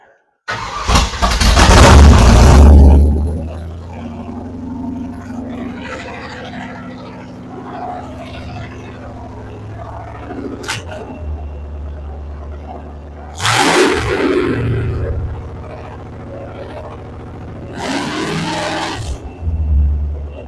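A Ford 302 V8 in a 1967 Falcon cranks and fires for the first time, with a loud burst of engine noise, then repeated cranking attempts and rough catches, and voices heard between them.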